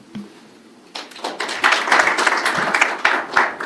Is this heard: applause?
yes